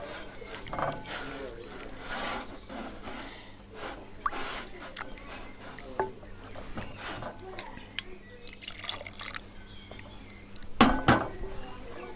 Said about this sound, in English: I'm just going to work this with a wooden spoon or a spatula or whatever you've got